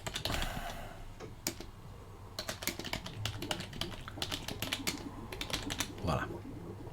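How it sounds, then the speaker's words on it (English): Fingers type steadily on a computer keyboard during an Arch Linux install, quiet irregular clicks and taps in quick runs with short pauses, close and soft, and a voice speaks briefly at times. "I always want to type a space behind the comma"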